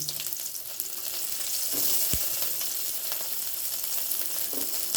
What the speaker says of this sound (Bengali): তেলও বেশ গরম হয়ে গেছে আমি এর মধ্যে কুঁচো পেঁয়াজগুলোকে দিয়ে দিচ্ছি